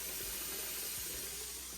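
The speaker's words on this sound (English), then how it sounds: "This water faucet, look at this thing." A cabin faucet aboard the Carnival Radiance cruise ship runs in a steady, full hiss of flowing water, close and continuous with no talking.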